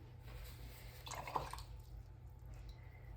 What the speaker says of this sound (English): so let's rinse your brush off